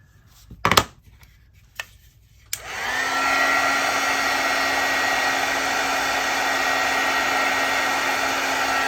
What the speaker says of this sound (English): So I've got my heat tool ready right here.